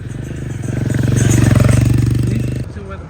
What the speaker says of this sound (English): See where the motorcycle is going?